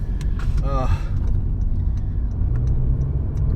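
Car driving with a low steady engine and road rumble from inside the cabin, a brief rising rev early on, and someone talking throughout.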